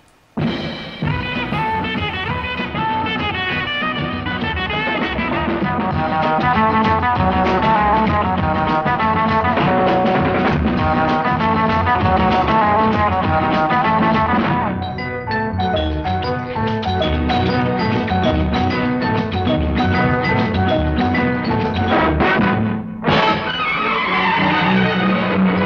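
Hindi film song from Teesri Manzil, aired on Radio Ceylon, heard as continuous thin, band-limited broadcast music with vocals and orchestra throughout.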